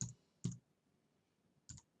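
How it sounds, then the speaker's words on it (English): A computer mouse clicking, three short soft clicks, two close together and a third after a pause, alone in a quiet room. "So I'm going to click here for story page 1."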